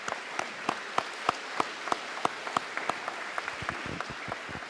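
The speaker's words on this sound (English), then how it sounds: "Let's give them a big round of applause" An audience at a Veterans Day celebration claps for veterans, with distinct claps from nearby hands ringing out in a loose, irregular rhythm over a softer spread of distant clapping.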